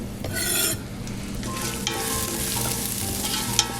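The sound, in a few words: stirring garlic and shallots frying in a pan for cioppino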